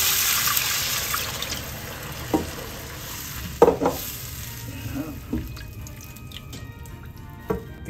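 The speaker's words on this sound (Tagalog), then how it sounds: "Lalagyan ko na po ng tubig." Water poured into sautéed tomatoes in a hot pan for miso sinigang with salmon, giving a steady hissing sizzle with scattered clinks and stirring knocks close by.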